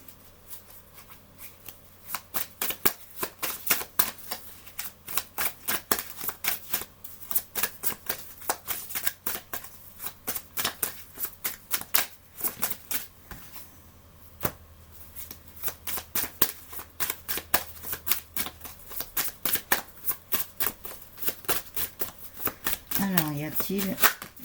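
A deck of tarot-style cards is shuffled by hand in rapid bursts of crisp, riffling flicks, repeated throughout with brief pauses, while someone speaks softly underneath.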